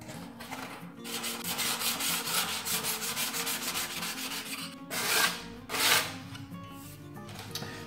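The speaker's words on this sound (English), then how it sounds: "What you want to do is just sand that off down to the metal itself" Sandpaper rubs lumpy plaster on a wall down to a metal edge bead, quick repeated scratchy strokes in an even rhythm, then two louder, harsher passes near the end, close with no talk.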